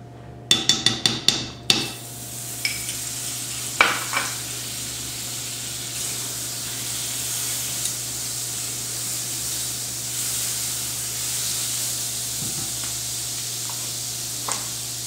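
Butter melts in a hot pan for an omelet: a quick run of clattering knocks opens, then a steady close sizzling hiss carries on with a few faint clicks.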